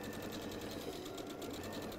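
An electric sewing machine run by foot pedal stitches a seam, a steady fast rhythmic whirr and needle clatter running continuously and close throughout.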